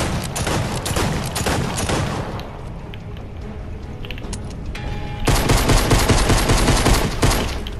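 Rapid automatic gunfire rattles on almost without pause in a Fortnite Creative map, loud and dense, easing slightly midway before surging back even harder for the final seconds.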